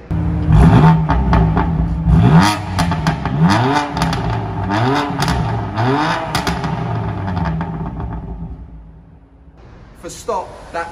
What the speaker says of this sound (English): I'll throw you in a rev here.